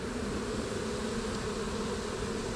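Dense, steady hum of a mass of honeybees swarming on the frames while a package is installed in a hive, a continuous close drone with no pauses and no voices.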